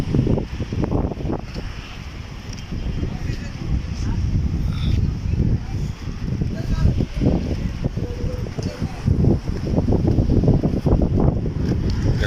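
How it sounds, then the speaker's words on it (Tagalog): Strong gusty wind sweeps through Al Khoud Souq in Muscat, Oman, battering hanging clothes and market goods ahead of heavy rain, a continuous low roar with buffeting bursts close to the microphone, with voices nearby. "Grabe yung mga paninda yung mga damit nagkahampayan na sa lakas ng hangin."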